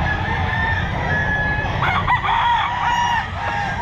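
A rooster at the Grotto pet market in Pangasinan crows loudly and close, a single drawn-out call over constant background clamour, with no talk.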